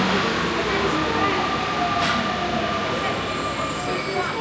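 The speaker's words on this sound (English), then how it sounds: "Welcome back to the sights and sounds of the Paris Metro." A Paris Metro train runs with a steady, loud rumble of wheels on rail, a faint high squeal drifting through, continuous from start to end with no pauses.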